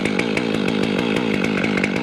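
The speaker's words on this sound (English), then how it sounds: "Let's see how this sharpened chain does on these fairly decent size pecan logs." Freshly sharpened chainsaw with a 28-inch bar cutting through fairly large pecan logs, a loud, close, continuous roar with a rapid pulsing rhythm throughout and no voices.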